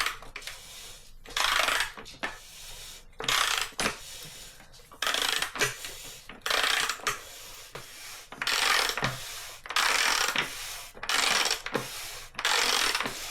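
Tool turning a T47 bicycle bottom bracket anti-clockwise, giving repeated bursts of metallic ratcheting and grinding in a steady rhythm of strokes with short pauses, close and fairly loud, no talking.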